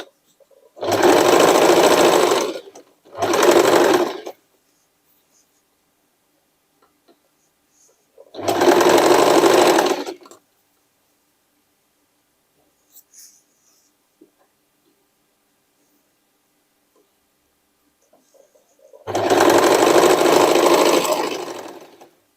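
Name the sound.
sewing machine stitching a denim jacket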